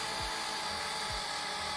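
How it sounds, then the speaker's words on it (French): The small electric motors of a toy drone whir at a steady, faint, high-pitched pitch, with a couple of brief low thumps and no voices. "On entend la puissance des moteurs augmenter."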